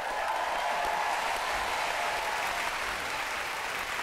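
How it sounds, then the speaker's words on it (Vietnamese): Studio audience at a Vietnamese TV show clapping in a sustained, even burst of dense applause that stays steady throughout, fairly distant and washy. "một tràng vỗ tay thật lớn dành cho Cá Rá Phương được không ạ?"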